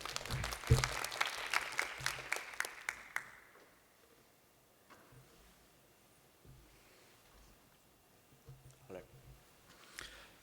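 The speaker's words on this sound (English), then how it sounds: "let's give our reader another round of applause" Audience at a conference talk applauds in a short burst of clapping that fades after a few seconds, followed by quiet room noise with scattered rustles and clicks.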